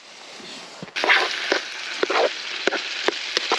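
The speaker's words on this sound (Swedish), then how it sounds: "Steker baconen fint här." Bacon frying in a pan at a winter campsite in the Stockholm archipelago, a steady close sizzle with sharp pops and spits breaking through now and then.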